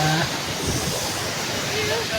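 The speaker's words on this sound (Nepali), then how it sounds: "झरना चाहिँ ठुलै थियो" A large waterfall roars as a steady, broad wash of falling water, loud and continuous, while a voice talks faintly underneath.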